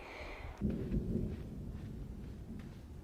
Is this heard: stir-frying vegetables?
no